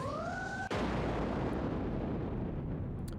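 Video game explosion on an N64 title as a bomb hits an opponent: a single sudden loud blast followed by a long, noisy rumbling roar that fills the rest of the moment, cutting off a steady electronic tone.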